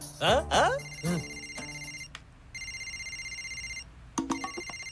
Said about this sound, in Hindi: ये तो मेरे पार्टनर KN का फोन है।